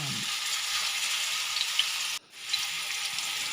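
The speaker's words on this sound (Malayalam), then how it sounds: "അതിനുശേഷം നമുക്ക് ചിക്കൻ ഓരോന്നായി ഫ്രൈ ചെയ്തെടുക്കാം" Chicken pieces for a burger fry in hot oil, giving a steady, close hissing sizzle that dips briefly before resuming.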